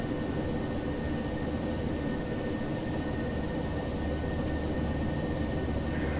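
A Ryanair Boeing 737-800 climbs out after takeoff from East Midlands, its engines giving a steady, loud roar that holds without a break the whole time, with no talking.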